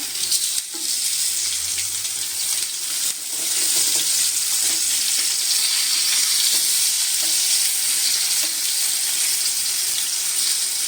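Surmai fish slices frying in a pan, giving a loud, steady sizzle that runs the whole time with faint scraping as the pieces are turned.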